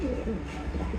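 Large pigeons kept in a loft coo in low, throaty, rolling calls, close and steady, with a person talking over them.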